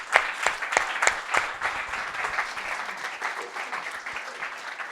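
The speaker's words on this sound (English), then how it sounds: "So maybe a round of applause for all the speakers." Audience applause for the speakers at a talk on power and energy harvesting, a crisp burst of claps from a small group that settles into a softer, steady patter, fairly close and with no talking.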